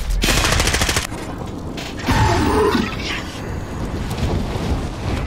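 A loud, dense burst of rapid gunfire from a zombie shooter video game, with crackling shots crowding the opening second and a rougher, noisy stretch of fire and mechanical clatter following.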